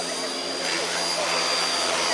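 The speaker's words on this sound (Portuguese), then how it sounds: "Deixa eu dar uma testada no teu helicóptero." Steady high-pitched motor whine of a 550-size radio-controlled model helicopter runs continuously and fairly loud throughout, with a dense broadband rotor hiss beneath it.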